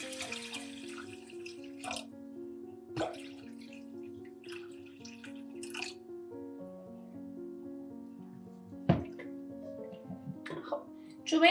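Water runs quietly from a tap into a pot while rice pudding is being made, a steady pour broken by a few sharp clinks, with soft tones in the background.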